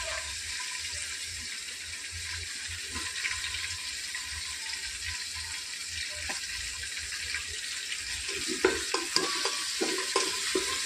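Cumin seeds and chopped onions frying in oil in a pan after mustard seeds, a steady sizzling hiss with light stirring clinks and scrapes that grow busier toward the end.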